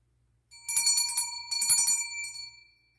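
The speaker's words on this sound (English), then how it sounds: "No, it's actually a bedside bell, I do believe." A small bedside bell rings close up, with several quick bright jingling strikes and then a sustained metallic ring that gradually fades.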